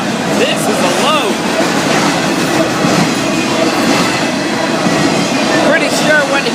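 An FEC freight train rolls past close by, loud and steady, with rhythmic clickety-clack of wheels, occasional squeals, and people talking beneath the rumble.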